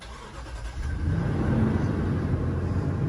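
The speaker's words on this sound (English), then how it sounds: "Let's start the car." Lexus LX570 SUV engine cranking and firing up right after a 12V battery replacement, settling quickly into a close, steady low idle rumble.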